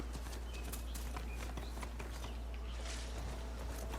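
Horse hooves clip-clop in a steady, rapid rhythm as a mount moves along in the video game Horizon Forbidden West, close and continuous over a constant low hum.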